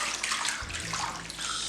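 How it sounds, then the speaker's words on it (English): Water pours and splashes steadily as corn flour is rinsed to wash out the starch for pap, a close, continuous sloshing rush with no voices. "So you're just literally rinsing out the starchy part, separating it from the chaff."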